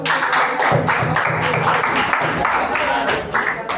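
A classroom of students claps together, a dense burst of applause lasting a few seconds, with voices mixed in.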